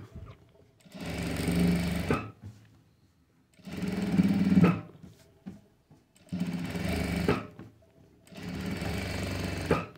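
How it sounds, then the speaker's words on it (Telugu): Sewing machine stitching a blouse, four loud bursts of rapid mechanical whirring and needle chatter, each lasting about a second and a half, separated by short quiet pauses, close up with no talking. "ఇలా మనం స్టిచ్చింగ్ చేసేసుకోవాలి."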